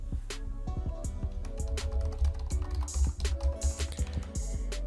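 Rapid, close typing on a computer keyboard as a new password is entered, with a dense run of crisp key clicks and a few heavier thumps, steady throughout and free of speech.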